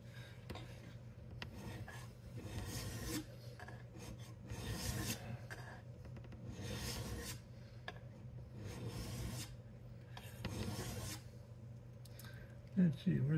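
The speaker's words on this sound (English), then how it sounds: "you should always flip your piece around when you draw filing so you take material off evenly" Draw filing on metal lettering of a Brown & Sharpe bench center, with repeated long rasping strokes in a steady back-and-forth rhythm, close by, ending with a brief metallic clatter.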